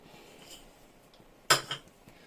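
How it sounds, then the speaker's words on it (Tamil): A quick metallic clank as a metal cooking pot is set down on a stove, with a short rattle after it, against quiet kitchen background noise. "பாத்திரம் வச்சாச்சு, காஞ்சிட்டு இருக்குது."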